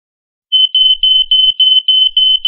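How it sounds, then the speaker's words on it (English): A household smoke alarm goes off with a loud, piercing high beep repeated in a fast, steady rhythm of about a dozen short pulses, starting after a brief silence. "The smoke alarm is going off."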